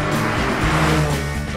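A racing car engine roars loud and close in a short, sustained burst, its pitch shifting slightly as it revs.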